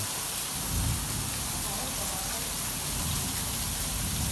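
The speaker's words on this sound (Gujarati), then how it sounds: "બહુ વરસાદ છે મારો ફોન પલળી ગયો" Heavy rain pours down steadily in a loud, dense wash of noise that lasts throughout without a break, heard close up with no voices.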